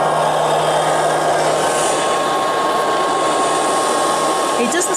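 A Liectroux B3000 robot vacuum cleaner sweeping gives a steady, loud whirring motor drone with a constant hum, close by and unbroken throughout.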